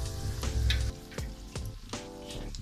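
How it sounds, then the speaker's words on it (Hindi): Pakora batter frying in hot cooking oil in a kadhai gives a soft, steady sizzle broken by a few louder bubbling pops and bursts, close by and with no one talking. "कुकिंग ऑयल में हमने डाल दिया।"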